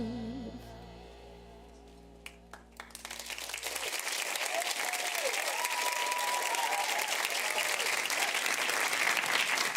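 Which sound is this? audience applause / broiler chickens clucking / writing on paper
audience applause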